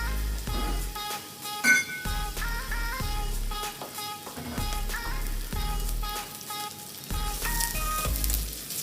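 Onions frying in olive oil in a pan give a steady, close sizzle that runs throughout, with tuneful background music playing over it.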